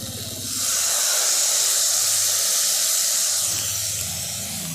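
Three cups of water poured into a hot pan of spiced rice and potato-egg mixture, giving a loud steady hiss and sizzle of steam that swells after a moment and holds throughout.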